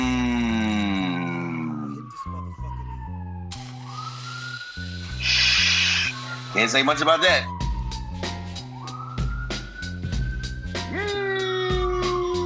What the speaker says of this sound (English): I don't know if it's a siren going on where one of y'all at